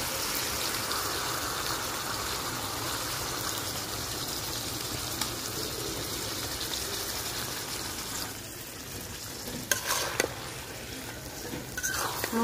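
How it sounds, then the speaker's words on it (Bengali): Washed mung dal is stirred into browned chicken in a hot pan, a continuous sizzle and wet scraping churn running steadily, with a few louder clatters of the spoon near the end. "এখন মাংসের সাথে ভালোভাবে মিশাইয়া নেব"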